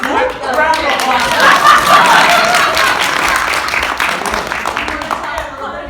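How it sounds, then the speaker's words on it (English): Loud, sustained audience applause fills the room, a dense wash of clapping hands with crowd noise, steady throughout with scattered voices mixed in. "Round of applause"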